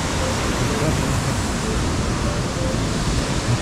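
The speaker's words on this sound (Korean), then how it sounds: "마당바위에서 바라보는 폭포입니다." A waterfall on Bangtaesan mountain, a two-tiered fall viewed from a broad flat rock, gives a steady, dense rushing roar that holds evenly throughout.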